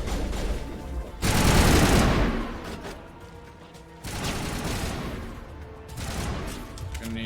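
Gunfire from the Mass Effect video game comes in two long, dense bursts of rapid shots, each fading out before a final lighter spatter, loud and close with no talk over it.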